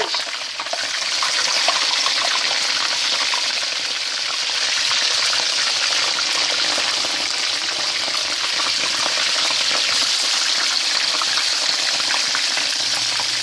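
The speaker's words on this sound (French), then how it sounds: "Et ensuite, vous mettez ça dans l'huile." Steady, dense sizzling of banana pieces frying in hot oil, a continuous crackle and hiss with no talking.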